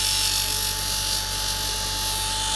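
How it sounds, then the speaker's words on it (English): A RYOBI bench grinder runs at a steady, loud whine with a constant high hum and a faint tonal line, droning evenly throughout with no talk. "this grinder isn't the fastest"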